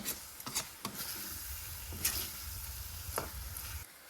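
Stirring wild shevla vegetable curry in a pan: soft sizzling frying underneath, with several scraping spoon strokes and knocks against the pan at irregular intervals, fairly quiet and close.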